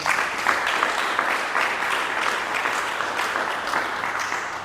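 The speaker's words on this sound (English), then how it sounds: "Can we please give an applause to them?" A crowd at a Catholic school awards ceremony, held at St Francis Seminary, applauds steadily for nearly five seconds. The clapping is dense and even with no pause, and no voices rise above it.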